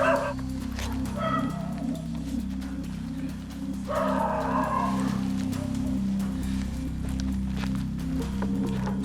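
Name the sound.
neighbours' dog barking at police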